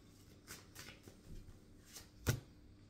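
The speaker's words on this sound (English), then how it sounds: "And I was shuffling here." Tarot cards being shuffled by hand in several soft, brisk riffling bursts, with a sharper snap of the deck near the end, close and fairly quiet, with no talking.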